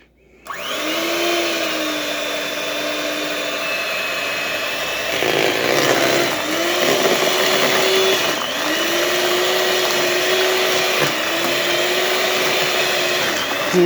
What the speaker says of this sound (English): We just want to mix this till it's all kind of smooth and everything's incorporated